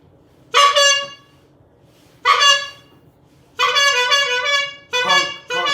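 A horn honks in a loud, clear series: two short blasts, a longer sustained honk, then two quick final toots, with quiet pauses between them and no talking.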